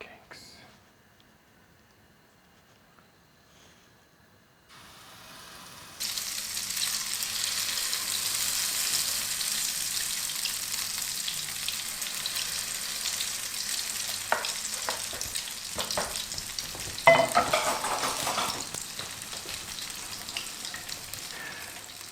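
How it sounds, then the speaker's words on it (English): Potato pancakes fry in a pan at medium heat for Ukrainian cooking, a steady broadband sizzle starting quietly and swelling after a few seconds, with a few louder crackles and spatters near the end and no talk over it. "So we are frying our potato pancakes from both sides."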